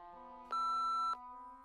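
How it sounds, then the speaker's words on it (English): A single steady electronic voicemail beep sounds clearly for about half a second, loud and clean over a quiet background. "leave a message at the beep"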